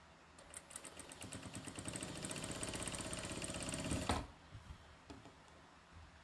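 A domestic sewing machine chain piecing half-square triangle quilt blocks, its needle hammering in a fast steady rhythm for about four seconds before stopping, followed by a few faint clicks.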